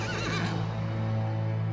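Horses inside a trailer neigh loudly and close, a long shrill whinny rising and then trailing off over a steady low engine-like drone, with no talk.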